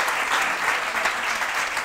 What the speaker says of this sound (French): Ouais, on l'applaudit.